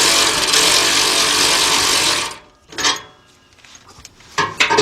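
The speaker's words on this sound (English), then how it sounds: "I got my cordless ratchet here, 14 millimeter deep." Cordless ratchet with a 14 mm deep socket tightening muffler bolts on a 2007 Nissan Murano 3.5: a loud, continuous whirring drive for about two seconds, then short mechanical bursts and clinks close by.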